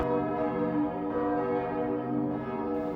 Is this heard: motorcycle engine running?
no